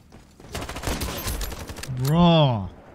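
Video game shooter gunfire with a Kar98k sniper rifle: a rapid run of sharp shots and crackling impacts, followed by a voice speaking loudly near the end.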